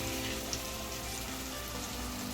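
Cauliflower sabzi with salt and turmeric frying in a pan, a steady close hiss and sizzle without pause, no voices present.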